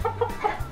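A pet rooster clucks close by in a few quick, short bursts over a low background hum.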